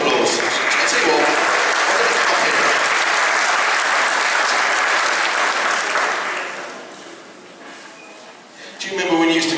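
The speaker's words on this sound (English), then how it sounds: "go give them a round of applause" At a Christmas concert, audience applause swells into a long, loud, even roar of clapping, then thins and fades after about six seconds before voices and other sounds return near the end.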